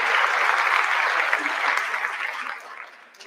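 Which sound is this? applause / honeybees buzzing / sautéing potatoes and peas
applause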